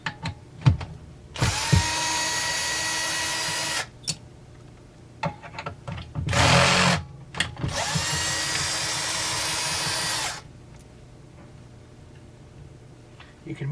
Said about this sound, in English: Let's undo the 4 bolts holding this plate on.